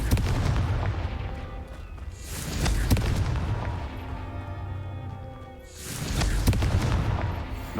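Confringo fire spell blast in the Hogwarts Legacy video game: two loud booming explosions several seconds apart, each with a sharp crack and rumbling tail, over a steady game soundscape.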